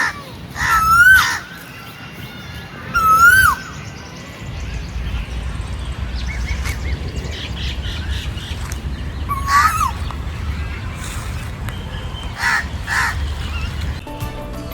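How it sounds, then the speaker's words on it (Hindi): A few loud, harsh bird calls ring out in short bursts, separated by quieter stretches of outdoor ambience with faint distant calls, at Safdarjung Tomb in Delhi. "तुम्हें एक बार इस चिड़िया की चहचहाहट सुनो एक बार बस।"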